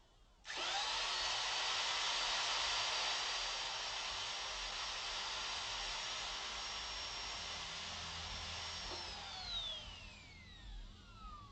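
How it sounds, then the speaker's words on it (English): A high-pitched power drill boring into a metal casing spins up sharply and runs at a sustained, loud whine, then its pitch drops as it winds down. "That drill will go through beryllium steel."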